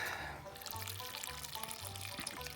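Water poured into a cooking pot at a forest campsite, a thin steady stream trickling under a low pulsing hum, quiet and close.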